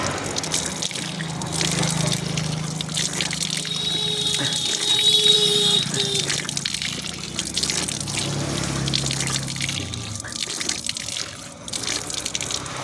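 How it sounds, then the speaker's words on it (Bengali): Water gushes steadily from a hand-operated tubewell pump in a continuous close splash and trickle, the flow shifting slightly in tone over time, with no voices. "তো টিপকলটা অন করে নেই।"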